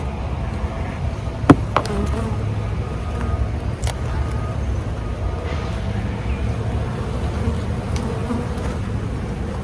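Honeybees drone in a steady, close buzz throughout at an opened hive during the first inspection of 2026 at a governor's mansion, with a few sharp knocks and clicks of hive equipment near the start.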